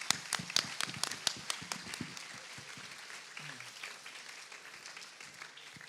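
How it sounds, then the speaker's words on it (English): Applause from the audience at a Model UN conference opening ceremony, starting with crisp nearby claps that gradually soften and fade into a quieter, thinning patter. "Can we get a round of applause"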